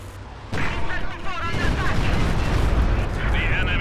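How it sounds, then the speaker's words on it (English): Walking Stuka rocket barrage in Company of Heroes 2 pounds down as a dense, continuous roar of overlapping blasts and crackling detonations, loud and sustained after a sudden onset, with a voice briefly audible beneath it. "There's the walking Stuka."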